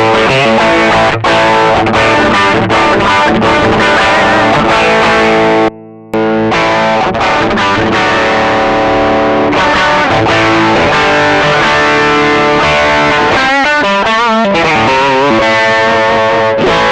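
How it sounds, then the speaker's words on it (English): Loud, driven electric guitar through an AC30-style overdrive pedal playing chunky rock riffs with a gritty, crunchy tone, briefly cutting out before resuming with sustained chords and fast runs. "I'm doing Marshall riffs with AC tones"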